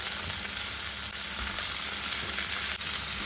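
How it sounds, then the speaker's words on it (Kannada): Hyacinth beans (avarekai) frying in oil with onions, a loud, continuous close sizzle with faint clicks of stirring and no voices. "ಆಯಿಲಲ್ಲೇ ಇದು ನೀಟಾಗಿ ಫ್ರೈ ಆಗಬೇಕು."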